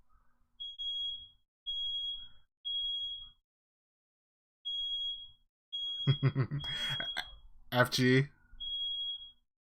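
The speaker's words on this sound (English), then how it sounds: "somebody set the alarm off" Smoke alarm going off indoors with loud, shrill, high beeps in a steady repeating pattern of short bursts, continuing under brief speech and sounding again after it.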